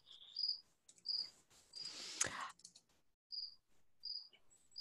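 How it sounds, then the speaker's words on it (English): Crickets chirp in short, bright, repeated bursts with quiet gaps between them, fairly faint. A brief rustling noise breaks in partway through. "And the crickets."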